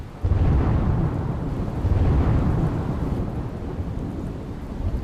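Heavy monsoon rain pours down in Surat with deep rolling thunder, a loud continuous roar of rainfall and low rumbles, no voices.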